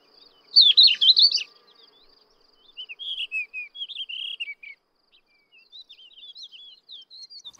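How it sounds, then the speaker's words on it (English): Subalpine warblers and thekla larks sing in spring countryside in Europe, clear high chattering bursts and fluty whistled phrases coming close in short separated runs against a quiet background. "The birdsong of subalpine warblers and thekla larks can be heard all around."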